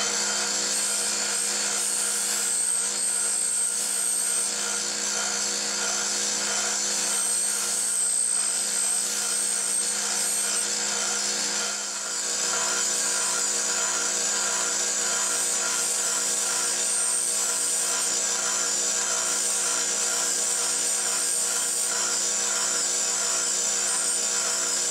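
Scotch-Brite wheel on a bench grinder deburring a metal push rod for a master cylinder clevis, a steady high-pitched whirring grind running continuously with only a brief dip midway, no talking.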